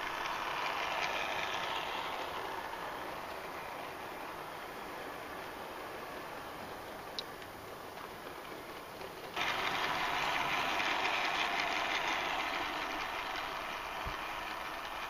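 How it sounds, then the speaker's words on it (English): A broad, steady hiss at moderate level comes from the LNER Peppercorn A1 steam locomotive 60163 Tornado at a railway festival, with a sudden step up in loudness partway through and a faint click. "the A1 60163 Tornado"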